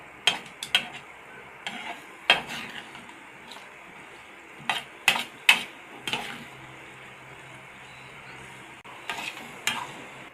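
Chickpea curry cooking in a pot, a quiet simmering bubble under sharp, irregular clinks and scrapes of a spoon against the metal pot.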